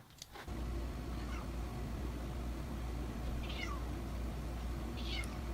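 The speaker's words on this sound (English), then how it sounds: "the cats are back at the door" Cats meow at a door in the middle of the night, three separate drawn-out cries spaced a couple of seconds apart over a steady low hum, with no talking.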